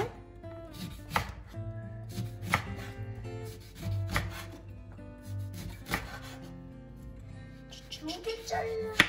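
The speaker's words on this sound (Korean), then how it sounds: "엄마가 레몬을 잘라주면 여기다 넣어주세요" Knife slicing lemons on a board at home, a series of distinct close chopping taps in uneven rhythm with a soft rubbing between cuts, over low background hum, with no speech.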